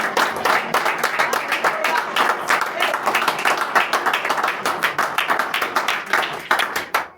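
Church congregation clapping steadily and enthusiastically in rhythm, dense and continuous, with voices faintly audible underneath.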